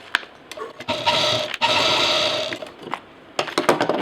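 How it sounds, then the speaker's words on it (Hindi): A sewing machine stitches a fabric shagun pouch with a steady, rapid mechanical whirr in several bursts, broken by short pauses and clicks, close and alone. "इसको यहाँ पर सिल देंगे।"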